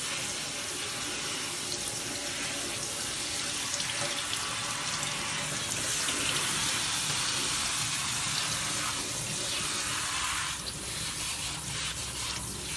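Wisteria flowers are washed under a steady stream of cold tap water that runs loud and unbroken into a sink, with faint splashing changes near the end.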